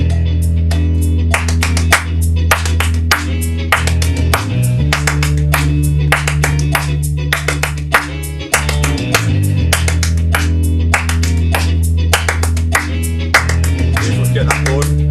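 Steady rhythmic hand clapping and body percussion repeat in a tight pattern over a backing track, loud and close.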